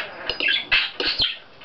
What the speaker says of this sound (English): Silly bird.